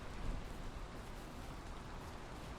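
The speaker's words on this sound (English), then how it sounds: "and there comes the rain again" Rain in the Valheim survival game, a faint steady hiss of falling drops with a soft low rumble underneath, continuous and without voices.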